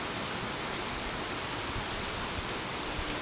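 Rain falls in a steady, even hiss, constant and unbroken throughout, with no voices or other sounds.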